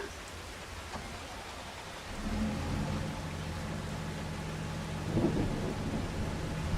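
Steady, dense rain in the farming video game Farming Simulator 25 hisses across the whole clip, joined by a low rolling rumble of thunder that swells after about two seconds and again near five seconds.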